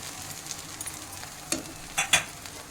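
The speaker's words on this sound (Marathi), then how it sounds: "तर हे आपण मिश्रण व्यवस्थित हलवून घेत आहोत." A spoon works through a sabudana khichdi mixture with peanut powder in a pan, with soft sizzling beneath and several sharp scrapes and clinks toward the end, no voices.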